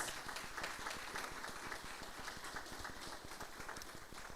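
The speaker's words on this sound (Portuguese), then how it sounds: "Dê um aplauso a Ele por isso." Church congregation clapping together at a worship service, a steady dense patter of many hands that continues evenly through the whole stretch at moderate distance.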